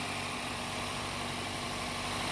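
A Toyota 1NZ petrol engine idling quietly after an engine cleaning treatment, giving a steady, soft, even hum with no speech over it.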